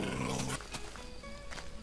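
Dogs growling in the video game Minecraft, a low, rough, rumbling snarl up close, loud and continuous with a brief shift midway, no talking.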